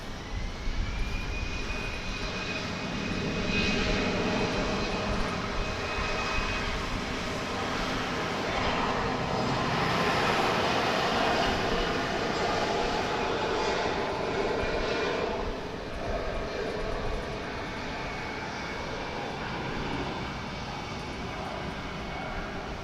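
An American Airlines jet rolls for takeoff on runway 36 right at Dallas Fort Worth airport, its engines producing a loud, sustained roar that holds steady and fades slightly toward the end.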